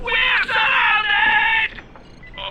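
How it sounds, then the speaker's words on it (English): Screaming from people in the video game Dying Light: The Following, a loud sustained high-pitched wail of about 1.7 seconds that breaks briefly partway, then fades with a short weaker cry at the end. "Scream louder, Fatih."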